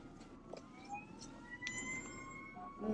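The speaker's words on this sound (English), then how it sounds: "Just some sirens, no worries." Faint wailing sirens in the distance, rising and falling tones layered over a low hum of traffic.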